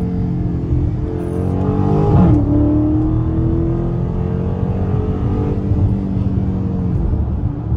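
A Dodge Scat Pack widebody in track mode accelerates hard, its loud engine roar climbing through rising pitch sweeps and shifting gears, heard close from inside the car with no talk.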